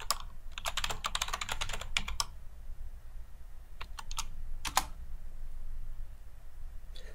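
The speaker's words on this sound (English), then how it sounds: "type in vicon.displayCommandHelp and then in brackets the function name" Rapid bursts of typing on a computer keyboard while entering a MATLAB command, close and fairly clear, with a dense run of keystrokes early, then a pause and a few scattered clusters of taps.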